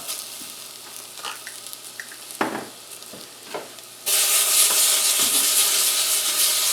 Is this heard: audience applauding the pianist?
no